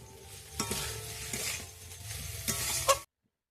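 Cauliflower and prawns being stir-fried in a pan, with a steady close sizzle and a few sharp scraping stirs of a spatula against the metal, ending abruptly.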